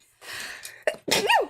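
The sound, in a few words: sneeze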